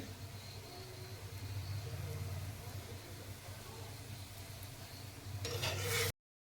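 Aamti with tamarind and jaggery simmering in a pot gives off a steady, soft bubbling hiss over a low hum, ending with a brief clatter of utensils close by.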